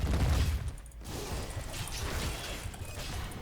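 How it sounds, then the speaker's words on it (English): Turret fire in Heroes of the Storm, a continuous clattering barrage of impacts that starts loud and stays steady with a brief dip near the one-second mark. "getting some turret shots"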